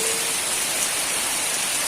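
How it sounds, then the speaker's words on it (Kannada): Steady, heavy rain with strong wind rushes as a dense, constant hiss with no letup, close and loud, with no voices. "ಈಗ ವಾಪಸ್ ಗಾಳಿ ಮತ್ತು ಮಳೆ ಸ್ಟಾರ್ಟ್ ಆಯ್ತು"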